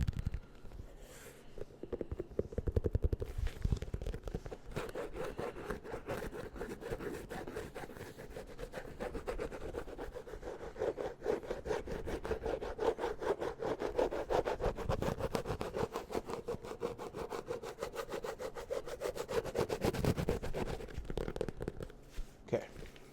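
Fingertips tap and rub against the hollow inside of a shoe, giving close, soft scratchy rubbing with quick brushing strokes, steady and intimate throughout.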